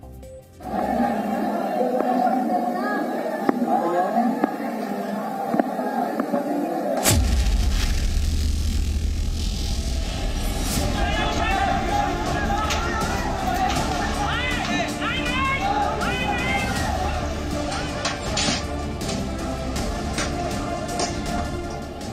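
A crowd of stone-throwers fills the streets of Moradabad, a dense, rumbling hubbub of many voices with heavy low-end noise that swells sharply partway through and stays loud and chaotic to the end.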